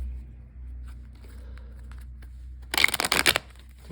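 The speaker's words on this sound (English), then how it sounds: "I will shuffle the first deck just a few more times" Deck of tarot cards being shuffled: after a quiet stretch, a short, close burst of riffling and flicking card sounds.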